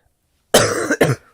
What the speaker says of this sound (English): I keep coughing, I apologize.